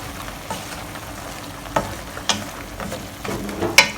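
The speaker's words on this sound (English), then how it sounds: "Stir them a little bit." Mixed vegetables for a Buddha's Delight vegetarian stir fry being stirred in a pan, a steady sizzle broken by several sharp scraping clicks of the utensil, alone with no talk.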